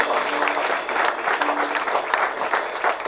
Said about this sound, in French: On acclame très fort ces paroles.